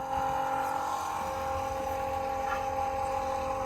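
A Milwaukee pump runs steadily while pumping engine oil, a continuous motor whine with a tonal hum, close and constant throughout.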